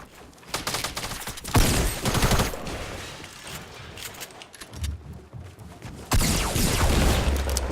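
Video game gunfire in rapid bursts, dense overlapping shots with a booming low end and brief quieter gaps, loud and close with no talking.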